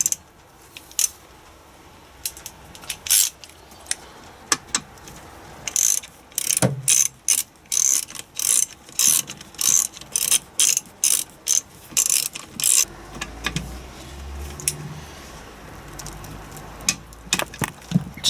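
Ratchet socket wrench clicking on a Land Rover Defender TD5 LT230 transfer box, with repeated bursts of fast ratcheting strokes, close and distinct, continuing steadily across the whole stretch.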